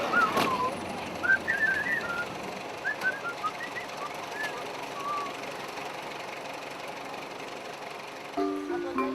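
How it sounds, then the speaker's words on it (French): Travellers in Thailand near the River Kwai whistle the well-known march tune, with short, faint, melodic phrases over a low engine-like rumble and ambient background. "nous nous mettons à siffler l'air connu que nous inspire le lieu"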